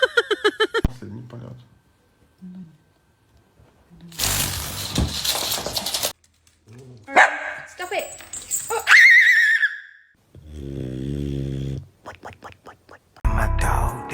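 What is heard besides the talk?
dog barking and whimpering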